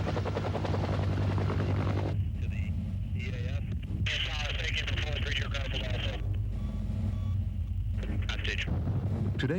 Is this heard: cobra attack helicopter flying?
yes